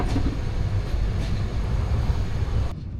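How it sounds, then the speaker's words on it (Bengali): Overnight passenger train running from Kamalapur station in Dhaka toward Cox's Bazar, a steady loud low rumble and rattle of the moving carriages throughout, cutting off abruptly near the end. "আমাদের ট্রেনটি রাত 11টা 30 মিনিটে কমলাপুর স্টেশন থেকে ছেড়ে যায় কক্সবাজারের উদ্দেশ্যে।"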